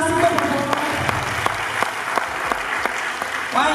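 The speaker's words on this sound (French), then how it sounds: "on applaudit encore, s'il vous plaît" An audience at a live stage performance applauds in steady, dense clapping that carries on throughout, with faint voices mixed in.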